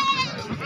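Goat bleating at a busy goat market where goats with their kids are for sale, a short near bleat heard over crowd babble and voices.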